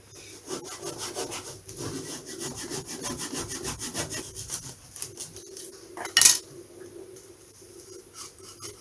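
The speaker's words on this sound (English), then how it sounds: "Trim them off because they'll only get in the way and probably snap." Balsa wood strips are trimmed to length for a new model aircraft wing, heard as a steady run of rhythmic, close sawing strokes. A sharp clack comes near the end, followed by a few lighter rubs.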